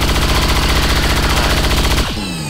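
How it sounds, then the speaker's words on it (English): Rapid automatic weapon fire in the XCOM 2 video game: a loud, fast burst of gunshots lasting about two seconds, then a short ringing decay as it stops. "Boom! Fire weapon."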